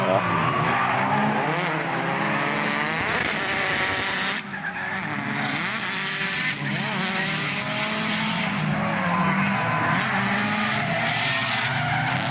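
Drift race cars skid around a track at a FinalBout Special Stage event, with tires squealing and engines revving in a loud, continuous wash of crowd-level noise that never lets up.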